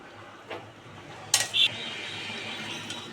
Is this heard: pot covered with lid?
yes